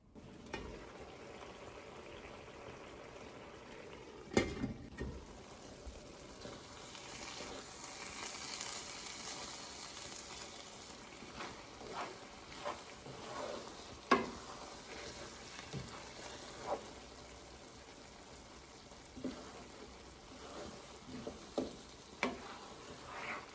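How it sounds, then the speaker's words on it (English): Hoppin' John rice simmers in a lidded pot, a soft continuous bubbling and sizzle with occasional faint clicks and pops, low and steady throughout. "I'm going to put my lid on my pot. And I'm just going to allow my rice to cook."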